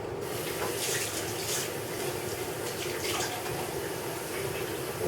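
Tap water runs steadily into a cooking pot in a kitchen, a continuous rushing splash with no breaks, close and fairly loud, no voices over it.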